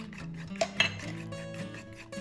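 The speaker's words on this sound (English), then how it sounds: "You're gonna just give them a little whisk with a fork" A fork whisks eggs in a bowl for a keto carrot zucchini cake batter, giving quick, irregular clinks and scrapes against the bowl, close by and fairly quiet, with no talking.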